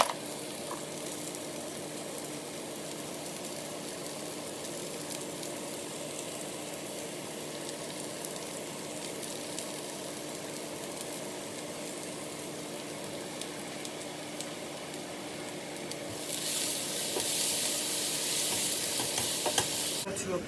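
Peppers and garlic puree frying in a pan, a continuous dense sizzle with occasional stirring, steady and close throughout, growing slightly brighter and louder toward the end, no voices.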